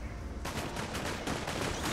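Borderlands 2 combat gunfire: a continuous, dense barrage of shots and impacts filling the whole stretch at moderate level, with no clear gaps, layered over a rumbling game soundscape.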